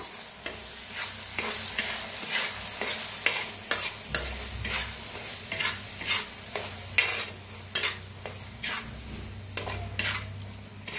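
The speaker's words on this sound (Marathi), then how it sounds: "आता जे वाटण बनवून घेतलं होतं ते आता भाजून घेऊया ह्या बी मसाल्याला।" Ground masala paste for an egg curry fries in a pan, heard as a continuous sizzle broken by regular rhythmic scraping strokes of a spoon stirring it, close and fairly loud with no voices.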